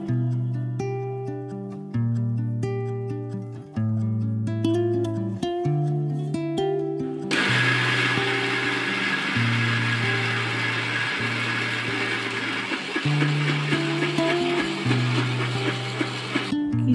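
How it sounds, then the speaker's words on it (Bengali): Plinking music plays alone, then an electric mixer grinder starts and runs steadily, a loud whirring roar grinding soaked urad dal into paste while the tune carries on beneath it. "আগের দিন রাতে ভিজিয়ে রাখা বিউলির ডাল ভালো করে ধুয়ে নিয়ে মিক্সিতে পেস্ট করে নেব।"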